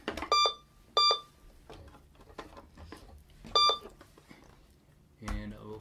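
A Captain Power toy light gun, just switched on, gives three short, bright electronic beeps spaced a few seconds apart, close by, with someone talking quietly between them.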